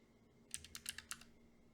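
Quick burst of keystrokes on a computer keyboard as numeric values are typed, about half a dozen crisp clicks packed into under a second over a quiet room hum, no talking.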